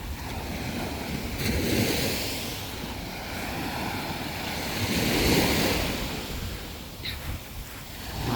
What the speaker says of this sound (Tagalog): Ang lalaki alon dito.